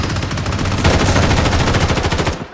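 Rapid automatic gunfire in the shooter game Blood Strike, a loud continuous burst of shots sustained for over two seconds before cutting off.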